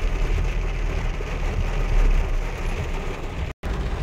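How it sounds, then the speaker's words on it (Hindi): Heavy rain pours onto a car windshield on King Fahad Road in a loud, dense, steady wash of noise with a low rumble underneath, broken briefly near the end. "देखिए कितना तेज़ बारिश हो रहा"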